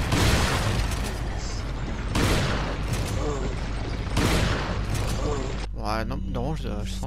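Three heavy blasts burst out a couple of seconds apart, each rumbling and fading, followed by quieter mechanical game sounds, in the video game Resident Evil 4.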